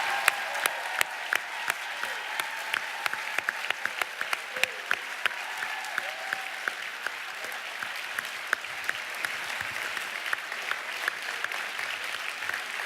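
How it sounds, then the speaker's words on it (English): An audience at a 2018 State of the Union business conference claps for attendees who traveled from other countries, a steady wash of moderately distant applause with a few louder individual claps standing out over nearly thirteen seconds. "let's give them all a round of applause"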